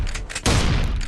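A shotgun blast at point-blank range in the horror video game Slendergirl Must Die, a loud, dense booming burst that cuts in over already noisy game sound and fills the rest of the moment.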